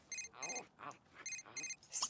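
Electronic telephone ring from The Sims 3 repeats in short two-part bursts of bright tones, interrupted by game character chatter and effects, fairly quiet overall.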